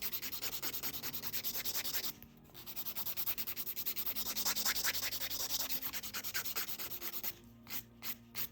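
A coarse 100-grit nail file rubs rapidly back and forth across a nail, a close, steady scratchy rasping in quick strokes with a couple of brief pauses and no talking.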